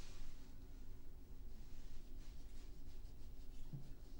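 Tarot cards riffled and shuffled by hand in a steady, continuous patter, close and moderately quiet, with a low background rumble and no talking.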